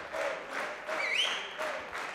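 Crowd applause at a men's singles badminton final at the Swedish Masters, a broad steady wash of clapping with a few faint whistles and voices mixed in, fairly distant and sustained.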